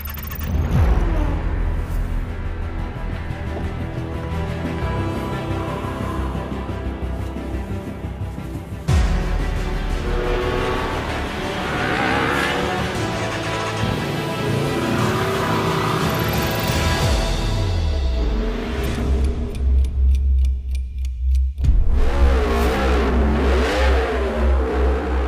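Griiip G1 race car in a virtual racing game, its engine revving hard and rising through gears, a loud continuous mid-range drone with shifts and a brief dip near the middle, no talking.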